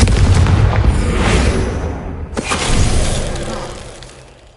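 A Confringo blasting spell detonates in Hogwarts Legacy with a loud, booming burst that rolls on with crackling debris, followed by a second sharp blast midway and a fading rumble.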